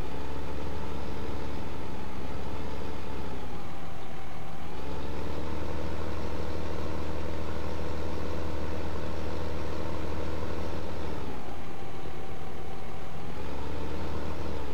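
A tractor engine runs steadily in Farming Simulator 2015, a continuous low diesel drone with two brief dips as the revs shift, and no talk over it.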